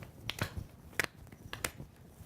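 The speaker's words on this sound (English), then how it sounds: "Now we're going to clap forward and backward." Hands clap in a gentle exercise routine, swinging forward and then back behind the body: a few sharp, separate claps spaced irregularly, moderately close and fairly quiet, with no talking over them.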